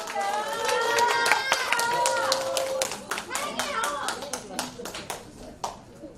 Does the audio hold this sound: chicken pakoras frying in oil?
no